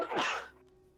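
A single quick sneeze, sharp and fairly close, followed by quiet.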